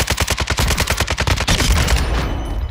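Rapid automatic gunfire in a shooter video game, a fast burst of evenly spaced loud shots lasting about a second and a half, then fading into softer scattered noise.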